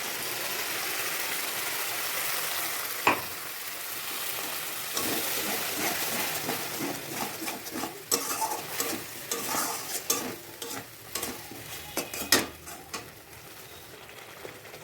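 Mustard and green chili paste frying with onions in a pan, a gentle sizzle that turns busier as a spatula scrapes and stirs in repeated strokes, with a sharp clack near the start, close and continuous, no talk.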